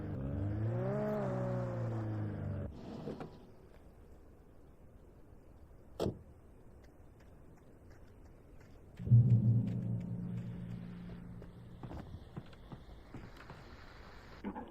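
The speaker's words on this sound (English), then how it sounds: "Oh, hey, another car." A car engine in Alan Wake Remastered whines past, its pitch rising and falling for a couple of seconds, then fades. A sharp click and a low hum follow.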